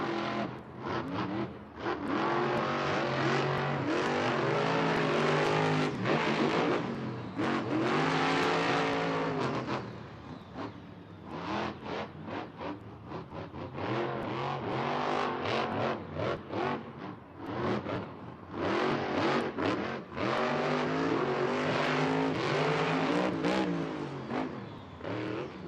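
Monster trucks racing at a Monster Jam stadium event in Atlanta, Georgia, with loud, roaring engines that rise and fall in long revving surges and pass-bys, echoing across the arena with no clear voices.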